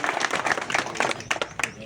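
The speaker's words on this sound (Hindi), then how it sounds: "हर देव जोरदार ताली बजाएं" A crowd claps loudly and steadily for about two seconds at a felicitation ceremony welcoming a new police station officer in Borunda, the dense clapping mixed with some voices.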